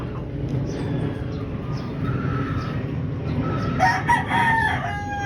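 A pure white Kelso gamecock crows once, a loud, drawn-out call rising over a steady low background rumble, fairly close.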